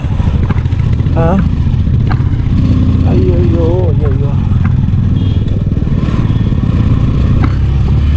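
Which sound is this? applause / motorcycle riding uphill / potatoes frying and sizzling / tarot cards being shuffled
motorcycle riding uphill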